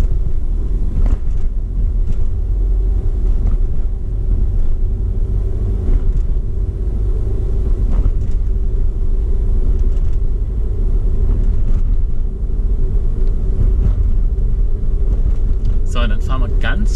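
A car drives around a curve with a steady low engine rumble and road noise from inside the cabin, loud and continuous, with a voice speaking over it.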